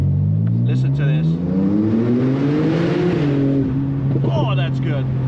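A car in sport mode with an upgraded exhaust, engine note swelling upward then easing back down, followed by light burbling crackles, loud and close, with a voice talking over it.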